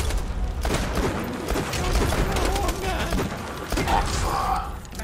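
Rapid bursts of gunfire from the shooter video game Borderlands 2, fairly quiet and sustained across the clip with thumping impacts and some faint mechanical clatter, under light chatter.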